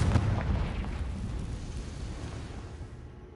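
A booming explosion from the Confringo fire spell in Hogwarts Legacy, loud and heavy at the start, then a long rumbling decay fading away over a few seconds, with no voices.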